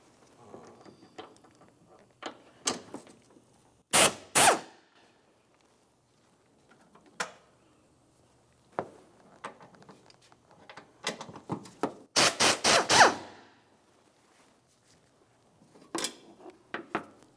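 Metallic clinks, ratcheting and tool clatter from loosening the lower mounting bolts of the windshield washer reservoir on a 2000-2006 Chevrolet Tahoe, coming in short irregular bursts close by with quiet pauses between them and no talking.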